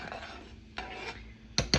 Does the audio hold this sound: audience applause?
no